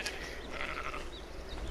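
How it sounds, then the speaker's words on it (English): An Ovis sheep in the video game ARK: Survival Evolved bleats, a few faint wavering calls over a low steady background hum. "These are low-level sheep"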